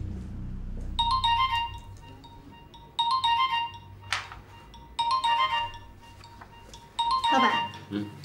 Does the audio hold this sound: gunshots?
no